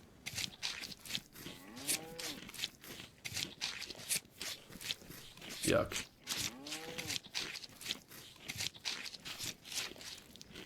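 Cattle mooing in the DayZ video game while a cow is skinned and quartered, several drawn-out low moos at moderate distance amid faint crunching and rustling, with a brief spoken remark.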